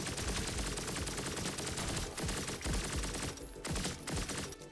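Relentless gunfire from the fast-paced shooter Turbo Overkill, loud rapid shots and heavy blasts hammering continuously with only brief dips, no voices over it.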